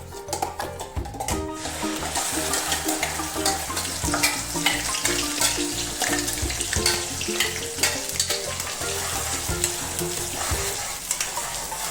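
A tomato-style puree hits hot ghee in a pan and fries with a strong, continuous sizzle, broken by stirring scrapes and clinks throughout.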